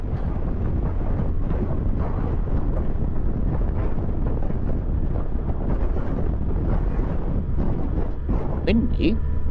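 Loud, constant wind buffeting the microphone while riding the Champagne Tourist Route between Mondement and Baye in France, a dense roaring rumble throughout, with a brief faint voice near the end.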